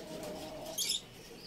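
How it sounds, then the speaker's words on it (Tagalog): Pet bird, a pigeon or dove kept in a box, giving a single short, faint coo close by against a quiet indoor background. "Nandito na yung ibon sa akin."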